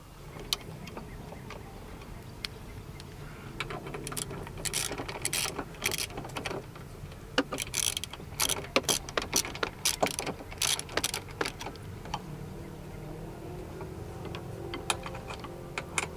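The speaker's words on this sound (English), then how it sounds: "I'll be using a 5mm Allen socket for this one." A ratchet with a 5mm Allen socket tightens bolts while installing GraBars out on a trail, sounding as bursts of rapid metallic clicking that speed up and pause, close and fairly crisp over a quiet outdoor background.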